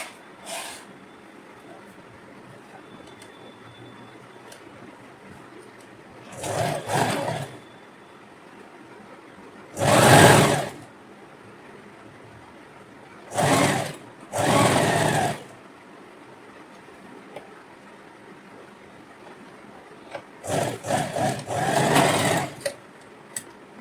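A sewing machine stitches a neck seam in several short bursts of loud whirring, separated by quiet pauses.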